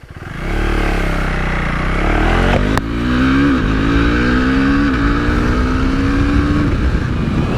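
A 2025 Husqvarna Svartpilen 401 motorcycle engine revs up close and loud, climbing in pitch through several quick upshifts with brief dips between gears, a steady single-cylinder drone carrying on alone.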